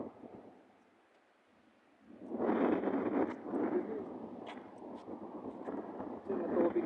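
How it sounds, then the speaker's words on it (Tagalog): Strong gusting wind at Hamama Station in Qatar during bad weather, a broad roaring rush that swells in after a quieter start and keeps buffeting the microphone. "Ang lakas ng hangin."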